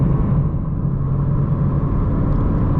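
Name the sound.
BMW M3 exhaust with IRL midpipe and AA downpipes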